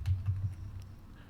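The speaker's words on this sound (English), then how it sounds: "How noisy is the keyboard?" A few quiet keystrokes on a computer keyboard, soft clicks in a short burst that trail off into near silence.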